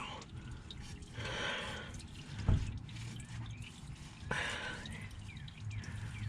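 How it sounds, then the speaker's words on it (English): Engine oil drains from a 1983 Oldsmobile 98 during an oil change, a faint, steady trickle with scattered drips and two brief sharper splashes. "we will let this continue to drain"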